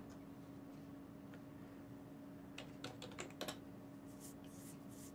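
Someone types on a computer keyboard at a command-line console. A short, quiet run of keystrokes comes midway over a steady electronic hum.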